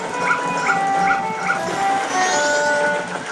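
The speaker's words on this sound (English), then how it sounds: "Dog went in the water." A small dog in the video game Majora's Mask barks and yips in a quick repeating series of sharp, mid-pitched yelps over game music and ambience.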